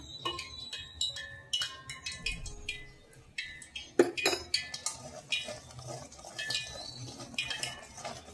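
Hot oil is worked into a sugar and gram flour mixture for Mysore pak, with a metal ladle clinking and scraping against the vessel in quick, irregular strokes. The sounds are close and fairly loud, and no one speaks.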